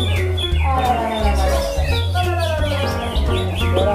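A cucak ijo bird sings continuously at a bird song contest, its loud, varied chirps and whistled phrases close by over a steady low hum of background noise.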